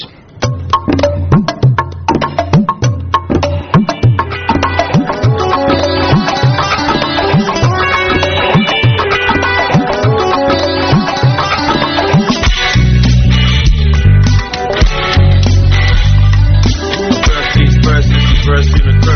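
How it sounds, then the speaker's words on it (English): A hip hop track plays loudly with a steady beat and layered instruments, the bass growing heavier and denser in the final stretch. "This is the song. It is this is the hip hop track."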